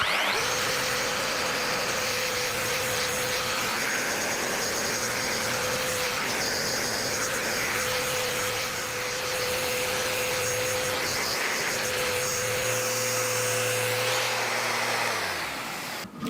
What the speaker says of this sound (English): Back to the sander.